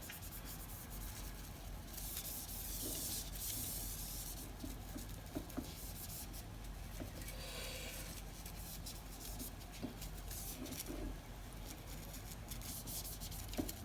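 Quiet, steady scrubbing of a fishing rod with a toothbrush, a continuous rough rubbing with occasional light taps and no talking.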